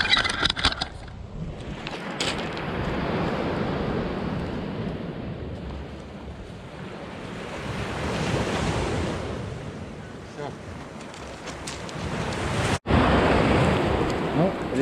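Black Sea surf washing onto the shore at Sochi in January, a continuous loud rush of breaking waves with heavy wind buffeting the microphone.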